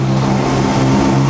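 An Aston Martin sports car at the Mille Miglia road race gives a brief, steady, close engine rumble with a strong low hum and no voices.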